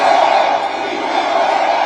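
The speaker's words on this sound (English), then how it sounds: "They're cheering this on." A large crowd at a Trump campaign rally cheers and yells in a steady, loud roar that holds without pause, voices blending into one sustained wall of sound.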